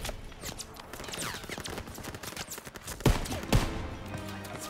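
Machine gun fire from a hayloft MG in Call of Duty WWII's D-Day farmhouse fight, bursts of rapid shots and explosions amid battle noise, with two loud blasts standing out near the end.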